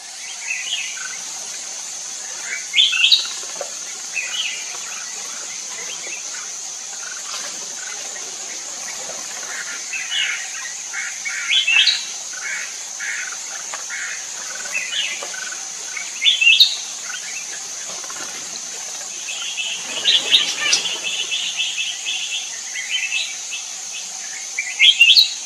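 Wild birds in Laos sing and chirp in repeated bright phrases, several calls overlapping against a constant high insect hiss, with no voices present.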